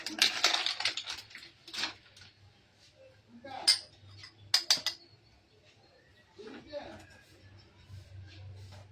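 A spoon stirs milk powder into warm milk and a splash of water in a bowl, making scraping clinks and taps at irregular intervals, close by, with some faint handling noise.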